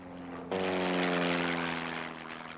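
Propeller aircraft engine during an intentional spin, a low drone that suddenly jumps into a loud, strained roar with rising harmonic tones, then slowly eases off.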